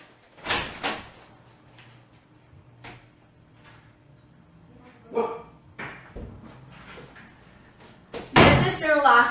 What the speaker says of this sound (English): hang on, let me open the door